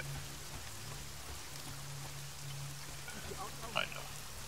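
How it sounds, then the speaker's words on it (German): Steady rain pours in a rainy city level of the stealth action game Deus Ex: Mankind Divided, a constant even hiss with a low droning hum underneath and a brief clatter near the end. "Wieso regnet das eigentlich schon wieder?"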